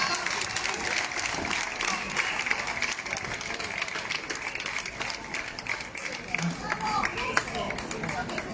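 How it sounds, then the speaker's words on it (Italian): An audience gives sustained applause at an outdoor peace march event in Cinquefrondi as a speaker is welcomed onto the stage, a dense field of clapping with some crowd noise mixed in throughout. "Accogliamolo con un applauso, Michele Santoro."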